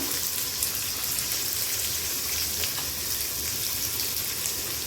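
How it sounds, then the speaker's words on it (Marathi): Onion frying in a couple of spoons of oil with chillies, a steady dense sizzle like light rain, loud and continuous throughout with no talking. "आता आपण त्याला तेलामध्ये फ्राय करूया।"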